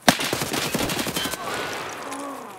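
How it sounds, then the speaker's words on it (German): Gunfire from the Escape From Tarkov video game: a rapid, loud burst of automatic shots over the first second and a half, then tailing off into quieter echo and background sound. "Schöner Schuss, Skipper."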